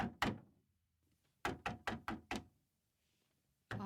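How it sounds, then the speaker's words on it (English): Knocks on a wooden chamber door: a quick double rap, then after a pause five evenly spaced firm knocks, with another starting at the end, crisp and close in a quiet room. "suddenly there came a tapping, as of someone gently rapping at my chamber door"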